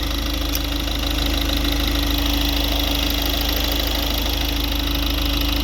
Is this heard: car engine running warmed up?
yes